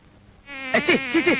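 Flies buzz loudly close by, a thin whining drone that swells in several quick rising and falling bursts after a short quiet start.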